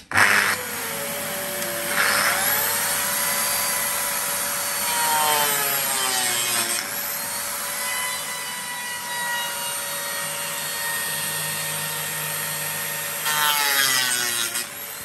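A biscuit-style joinery machine (Lamello Clamex or Festool Domino) plunging into the edge of a wood cabinet panel, a loud sustained motor whine with a cutting rasp that rises as the blade bites, then eases.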